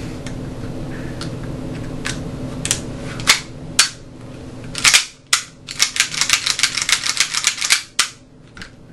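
An airsoft-style 1911 pistol is reassembled, its slide pushed back onto the frame with a run of sharp metallic clicks and scrapes, sparse at first and then a quick dense cluster of ticks.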